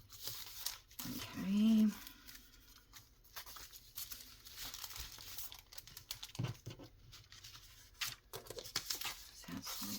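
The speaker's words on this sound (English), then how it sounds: "I'm going to have to cut some stuff off." Paper being handled and cut while making fall junk journal pages: crinkling, tearing-like rustles and snips scattered across the clip, close and fairly quiet, with someone talking over it.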